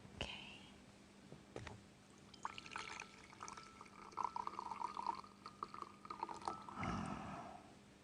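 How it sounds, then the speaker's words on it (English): Coffee poured into a cup, a steady trickling stream with splashy filling that rises in tone, faint and close, with small clinks around it. "It's nearly time for our coffee break. I'll pour."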